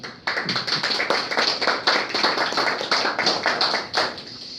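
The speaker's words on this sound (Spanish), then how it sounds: "por favor, recíbanlo con un aplauso." An audience welcomes a guest speaker, Costa Rica's national youth director, with steady, dense hand clapping that begins abruptly and carries on close and loud without a break.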